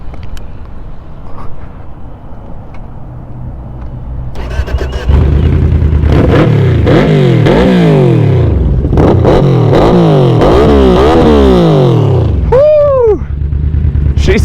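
A Yamaha Vmax cruiser motorcycle fires up after a quiet idle-like stretch, then its engine is revved repeatedly in loud rising and falling sweeps close by, ending with one sharp high rev before settling.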